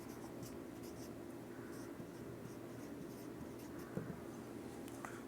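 Pen scratching on paper in brief, light strokes against a quiet room tone, writing out an accounting entry by hand.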